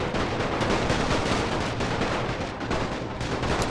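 Musket volleys and artillery fire from a Napoleonic battle in Napoleon Total War with The Great War mod, a dense continuous crackle of rifle shots and cannon booms, loud and steady throughout.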